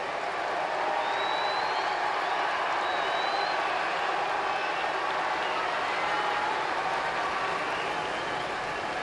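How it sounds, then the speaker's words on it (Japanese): A baseball stadium crowd keeps up sustained, even applause and cheering after a pitcher's 200th career win, distant and washy with no break. "皆様黒田投手に今一度盛大な拍手をお願いします"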